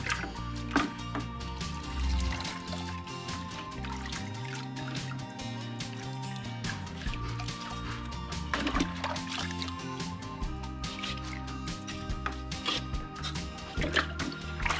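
Water sloshing and trickling as dirty filter media from a Fluval 305 aquarium canister filter is rinsed, a steady close splashing wash with drips throughout.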